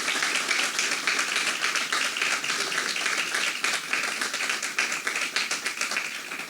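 A church congregation claps loudly and continuously, many hands beating in a dense, slightly rhythmic patter that stays strong throughout.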